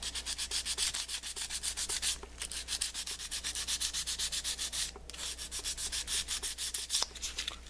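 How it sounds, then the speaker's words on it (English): Sandpaper rubbed by hand along a grip to rough it up for epoxy, a steady rhythmic scratching of repeated back-and-forth strokes, close and fairly quiet, with no voices. "So if you want to, you can just take the sandpaper and just run it down in the center as well."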